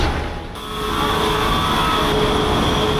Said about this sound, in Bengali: এই ট্রেনের মাধ্যমে এটা উপরে দিকে যাচ্ছে